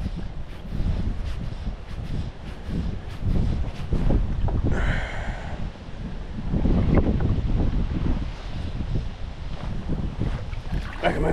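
Wind buffets a microphone during boat fishing on Hørup Hav near Als, Denmark, a continuous rough rumble that swells and eases, with water sloshing faintly beneath.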